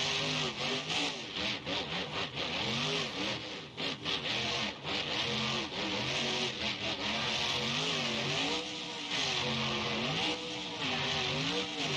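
A heavy monster truck engine in the game BeamNG.drive revs up and down continuously, the pitch rising and falling in waves, loud and close with a rough mechanical roar.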